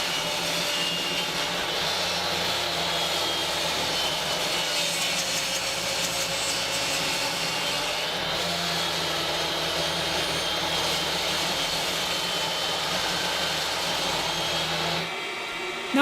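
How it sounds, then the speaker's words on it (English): A table saw rips a wooden board down to width in a workshop, a loud continuous whine and roar of blade and motor that holds steady throughout before dropping away at the very end. "Now I'll just rip it down to width on the table saw and then cross-cut the pieces to length."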